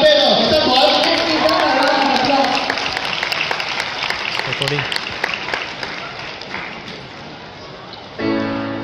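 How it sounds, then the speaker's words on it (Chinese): A crowd applauds to welcome a choir at a Malaysia Day service, steady clapping over cheering voices that thins out gradually before music begins. "让我们用最热烈的掌声来欢迎阿嘎贝的合唱团。"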